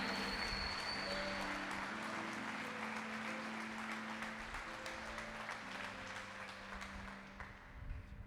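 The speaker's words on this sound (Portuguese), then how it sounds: "Dê uma salva de palmas a ele bem forte" A church congregation claps steadily through a sermon, a dense, even wash of applause at moderate distance that slowly tapers toward the end, with sustained tones, likely music, beneath it.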